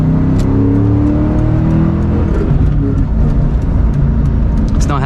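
A Ford Mustang Cobra engine drones loudly and steadily as the car accelerates along a twisty road, a constant rumble heard from inside the car, with a brief voice near the end.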